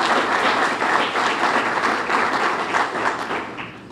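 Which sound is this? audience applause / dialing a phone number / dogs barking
audience applause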